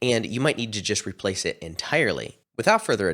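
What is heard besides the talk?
No everyday noises stand out.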